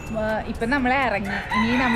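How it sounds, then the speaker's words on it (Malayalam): A rooster crows in the early morning hours near Hanoi's Train Street in Vietnam, giving one drawn-out, wavering crow while someone talks close by over it. "ഓക്കെ, കോഴി നന്നായി കൂവുന്നുണ്ട്."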